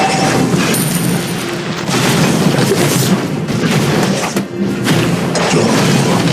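Explosions and crashing effects from a Mobile Legends match as a turret is destroyed, a loud, dense, continuous wash of game booms and impacts with no clear pauses.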